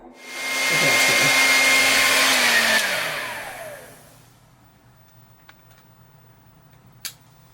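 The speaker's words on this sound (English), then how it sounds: "We blew the fuse from the blow dryer." A blow dryer runs loud and steady for about three seconds, then its whine drops and dies away as the fuse blows, leaving near silence broken by a couple of faint clicks.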